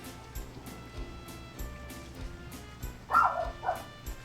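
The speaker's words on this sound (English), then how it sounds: "Dog." A dog barks a couple of times at a distance, faint sharp yips near the end of a quiet stretch with soft background knocks.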